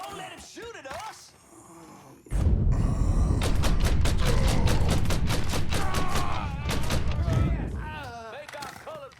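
Sustained burst of video game gunfire in Mafia 3, loud rapid shots filling several seconds, with in-game character dialogue before and after.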